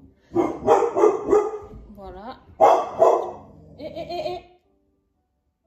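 A pet dog barks in a couple of loud, close bursts indoors, overlapping someone speaking French who laughs and briefly hushes it.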